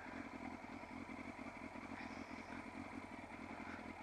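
A motorcycle putters steadily at low speed through a 50 meter slow race course around rocks, with a continuous engine drone and rhythmic low pulsing throughout, heard from the rider's position and fairly faint overall.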